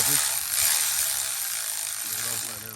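A hand ratchet works a 10mm bolt loose on the thermostat housing of a 2015 Jeep Grand Cherokee, a fast, close clicking that runs steadily for a few seconds, fairly quiet and with faint voices around it.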